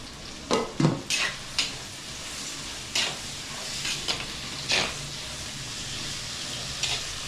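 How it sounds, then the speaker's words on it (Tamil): Onion and tomato frying in oil in a clay pot for a fish curry, giving a steady soft sizzle broken by several sharp scraping stirs near the start and a few later ones. "நல்லா வெங்காயமும் தக்காளியும் எண்ணெயிலேயே நல்லா வெந்துச்சுன்னா நல்லாயிருக்கும்"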